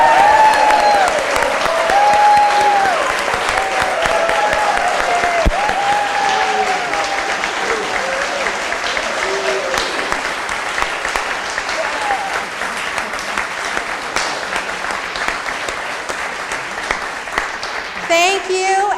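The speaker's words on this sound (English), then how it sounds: "Now may we all welcome these beloveds with riotous applause." Loud, sustained applause from a congregation at a Sunday church service welcoming new members, a thick wash of clapping with voices and cheers mixed in, tapering slightly before a brief tone near the end.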